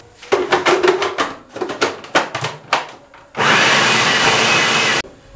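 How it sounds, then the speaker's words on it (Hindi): Bread is blitzed in an electric chopper: first a run of quick knocking taps as pieces drop in, then a loud, steady whirring motor burst of about a second and a half that cuts off abruptly, with no voices. "इसको हम सीधा उठा के चॉपर में डाल देंगे। इसको हम चॉप कर लेंगे"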